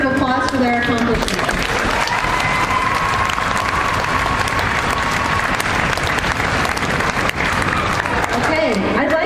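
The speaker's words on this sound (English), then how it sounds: "Let's give these teams a great big round of applause for their accomplishments." Loud crowd applause in a gym-style hall at a school sports opening ceremony, dense continuous clapping with scattered cheers, and a voice briefly audible within the noise.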